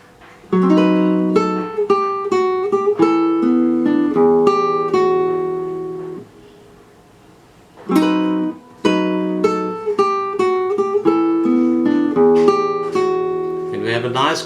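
A classical guitar plays two bars of a song, including triplet figures: plucked notes and chords ring clearly, pause briefly in the middle, then resume with the same phrase; no talking.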